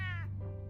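A cat in the video game Batman: The Telltale Series gives a single short, close meow that bends downward in pitch, set over a low steady background hum.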